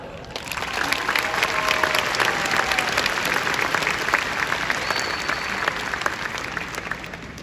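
Sustained audience applause at a 2021 Biloxi High graduation ceremony as the valedictorian is welcomed: a steady, even wash of many hands clapping that holds at a constant level throughout.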